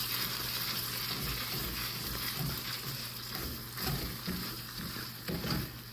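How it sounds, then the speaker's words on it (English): Corn fries in a skillet as it is stirred, giving a steady broadband sizzle with soft scraping and clinking of the utensil throughout. "Okay, I'm gonna stir the corn again."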